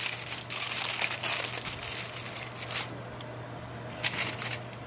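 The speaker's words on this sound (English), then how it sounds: "I'm going to wrap the aluminum foil around it to hold all the juices in" Aluminum foil being wrapped around a ribeye steak before baking: close, continuous crinkling and crumpling of the foil with irregular sharper crackles as it is folded and pressed, no one speaking.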